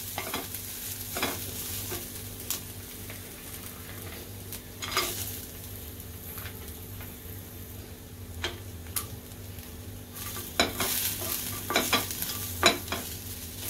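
Onion and grated coconut are sautéed together in a pan, a low background sizzle punctuated by repeated spatula scrapes and taps on the pan, busier toward the end.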